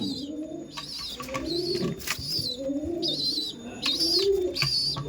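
Giribaz high-flying pigeons, including babies, cooing repeatedly close by, soft throaty coos overlapping with a few higher chirps and some rustling.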